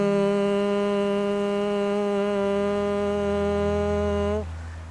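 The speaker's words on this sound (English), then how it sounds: "We'll be doing a humming sound throughout that sounds like this." A human voice holds a steady, sustained hum for nada yoga meditation, loud and close with a rich, even tone for over four seconds before it stops abruptly.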